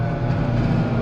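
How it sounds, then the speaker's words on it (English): A forage chopper chopping corn silage in the field, with a dense, steady low rumble of machinery and a constant stream of chopped corn pelting the back of the chopper box, loud and close throughout. "You can hear the corn hit the back of the chopper box there."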